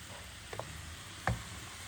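Boiled champignon mushrooms with a knob of butter in a pan, a quiet soft sizzle with a couple of faint clicks and one sharper knock of a utensil against the pan.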